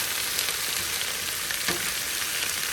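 Peppers and potatoes shallow frying in oil on a Blackstone griddle over high heat, a close, steady broad sizzle with one brief scrape of a spatula.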